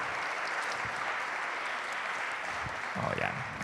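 A crowd at a planning society spring social applauds its panelists, steady clapping filling the room, with a voice briefly rising over the applause near the end.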